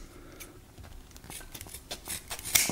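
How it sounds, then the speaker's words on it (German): Leatherman Raptor rescue shears snipping through a leather belt, a series of irregular crisp cuts and crunches building to a sharper snap near the end, close up. "Das gleiche nochmal mit der Leatherman-Schere."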